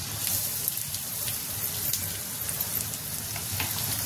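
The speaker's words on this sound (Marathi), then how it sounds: "तेल आपलं छान तापलेलं आहे आणि त्यामध्ये हा 2 कांदे बारीक चिरून टाकलेले आहेत" Finely chopped onions fry in hot oil in an iron pan, a steady, even hiss like light rain that holds throughout with faint crackles, close and continuous.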